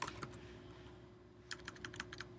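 Keystrokes on a computer keyboard while entering a manual import statement in code, a quiet burst of clicks at the start, then a pause, then a faster run of close, crisp taps over steady low hum.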